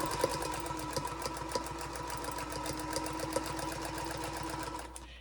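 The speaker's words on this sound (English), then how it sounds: "I'm sewing on my little featherweight Singer" A vintage 1950s Singer Featherweight sewing machine runs steadily for about five seconds, its fast, even needle rhythm close and clear before it stops near the end.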